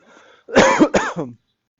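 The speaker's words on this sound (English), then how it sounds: "Excuse me, I have to cough here." A single close, harsh cough in two or three bursts, throaty and loud, preceded by a faint murmur.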